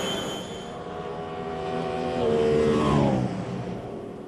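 A race car engine screams past on board as it crosses the start-finish line during a 2011 International Superstars race, with a loud, high-pitched whine rising and then falling sharply as it shifts gear.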